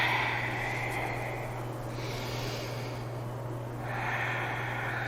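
Slow breathing in and out during a yoga shoulder exercise, soft airy inhales and exhales with a gentle hiss, close and fairly quiet over a steady low hum.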